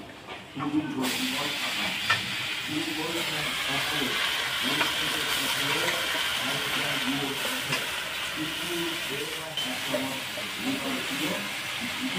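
Pumpkin greens frying in a pan and being stirred, a hissing sizzle under a nearby voice talking, with occasional scrapes and clinks.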